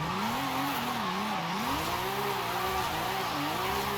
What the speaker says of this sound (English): stretching my slide out as much as I can. Little manji here. Let's manji again.